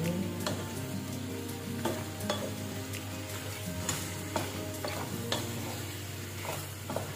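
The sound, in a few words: stirring beef and broccoli stir fry in pan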